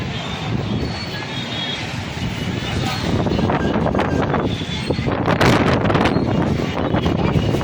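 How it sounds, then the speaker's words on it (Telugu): Strong wind buffets the microphone outdoors during light rain on a cycle trip, a continuous loud roar and rumble that swells stronger through the second half. "ఫుల్ గాలి పెడుతుంది, వర్షం చినుకులు చినుకులు పడుతున్నాయి."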